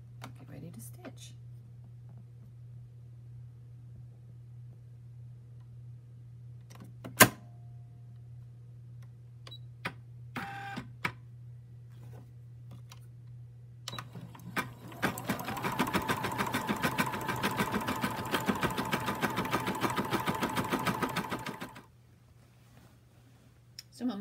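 An embroidery machine starts stitching a monogram with a steady, fast mechanical whir and rapid needle patter for several seconds after a stretch of low hum and scattered clicks, then stops abruptly.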